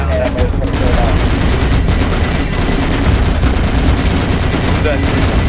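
Heavy continuous gunfire and machine-gun bursts in the military shooter Project Reality, close and loud throughout, with muffled game voices underneath.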